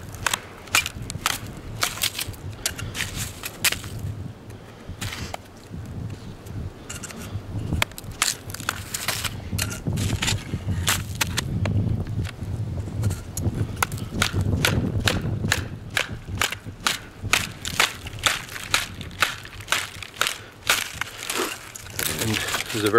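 A Schrade SCHF42 knife splits and shaves a very dry piece of birch outdoors in snow, giving irregular cracking snaps and crunchy scraping that recur close by throughout, with a rougher, louder stretch in the middle.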